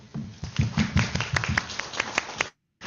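An audience breaks into a round of applause at a charity week finale event in Canada, a dense burst of clapping lasting a couple of seconds before cutting off abruptly.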